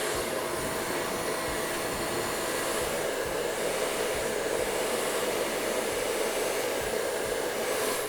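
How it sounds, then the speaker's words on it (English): A hair dryer blows hot air through a vented brush while hair is blow-dried to lift the roots, a loud, continuous close-up whooshing roar with no pauses. "that's just gonna kind of allow the air to pass through the brush and lift those roots as we're blow drying"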